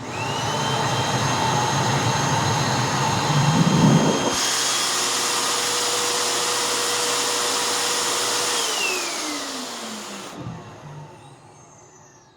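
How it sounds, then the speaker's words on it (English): A Sanitaire Extend SC3683D upright vacuum cleaner runs at full suction with a loud steady whine and hum, then shifts pitch partway through, and its motor winds down audibly before cutting off near the end. "Now let's do a suction test"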